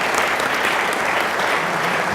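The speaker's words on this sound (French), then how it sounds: "Une autre main d'applaudissements." Steady audience applause for guests at a democracy symposium dinner-conference, a dense, even wash of clapping from a crowd that holds at constant loudness throughout with no talk over it.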